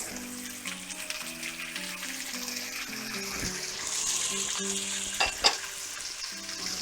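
Celery and leeks go into a hot pot for German beef rouladen, giving a soft continuous sizzle with stirring and a few clatters of utensils, heard close without talking.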